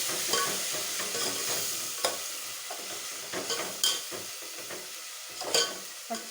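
Ginger garlic paste fries with browned onions for chicken biryani, a steady close sizzle broken by repeated scraping stirs and a few sharper clinks of the spoon against the pan.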